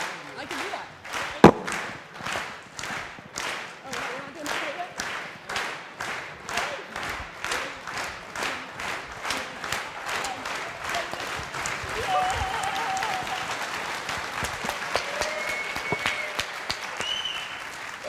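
An audience at a FOSDEM 2013 conference talk claps along in a steady rhythmic beat, sharp regular claps for several seconds that loosen into scattered, denser applause toward the end, with light crowd murmur underneath.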